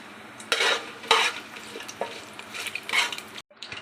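Whole spices (bay leaf, cinnamon, cloves, cardamom) frying in hot ghee in a pan, giving a soft steady sizzle with a few stirring scrapes and clinks, close and moderately quiet.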